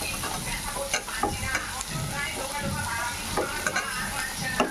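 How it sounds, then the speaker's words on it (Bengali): Tomatoes and coriander leaves sauté with prawn masala for a prawn malai curry, a continuous close sizzle with repeated scraping strokes of a spatula against the pan, no voices. "আমি টমেটোগুলো দিয়ে দিলাম দিয়ে ভালো করে কষাবো"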